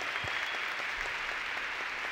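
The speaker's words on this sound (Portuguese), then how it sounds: "Uma salva de palmas para os atletas." An audience at a happiness congress lecture applauds athletes, dense continuous clapping filling the room evenly from start to finish.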